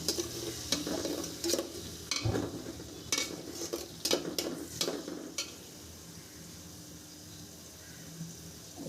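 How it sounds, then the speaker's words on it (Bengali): Onions fry in oil in a wok for a meat curry, a steady sizzle broken by sharp scraping stirs and clinks of a utensil against the pan in the first five seconds, then settling into a quieter constant frying hiss. "মাংসের জন্য পেঁয়াজ ভেজে নিচ্ছি"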